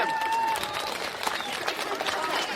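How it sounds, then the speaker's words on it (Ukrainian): A festival audience applauds outdoors, a steady wash of many hands clapping with crowd noise and a few voices mixed in throughout. "Оплески мужній жінці!"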